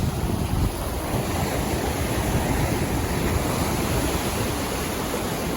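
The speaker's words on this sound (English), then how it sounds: "some waves that are trying to lick at my feet" Ocean surf washes onto the beach at Snapper Rocks, Rainbow Bay, a loud continuous broadband roar close by, with wind buffeting the microphone throughout.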